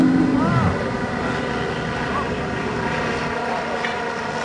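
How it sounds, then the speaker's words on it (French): A Tanarg ultralight aircraft landing at an airfield near Blois, its propeller engine droning steadily at moderate distance with a brief shift in pitch early on, continuous and fairly even. "Et le Tanarg à l'atterrissage."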